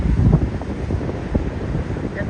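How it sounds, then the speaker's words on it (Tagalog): Wind buffeting an outdoor microphone at sunset after heavy rain, a low rumbling roar with gusty surges, loud and close, steady throughout. "Ang hangin."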